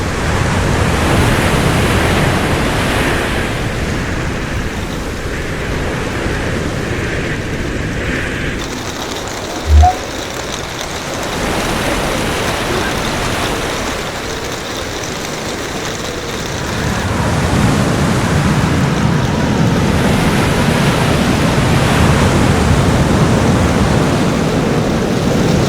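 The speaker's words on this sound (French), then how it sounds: "Le vent il est énervé, j'avance pas du tout." Stormy wind roars along the Iceland coast with crashing surf, a loud, continuous broadband rush that swells and eases, buffeting close to the listener.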